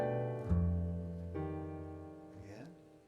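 Double bass sounding an F plus 11 chord, with three plucked attacks spaced about a second apart, each ringing warmly and sliding slightly before fading, heard alone and close.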